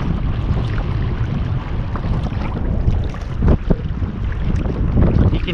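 Wind buffets a canoe being paddled upwind on Shuswap Lake, a constant loud roar with rumbling gusts and faint water sloshing, and nobody speaking.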